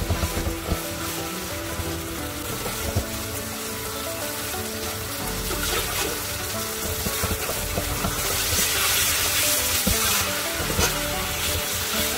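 Steady, loud sizzling and frying with scraping stir sounds throughout, as flat rice noodles with shrimp are tossed and stirred in a hot wok.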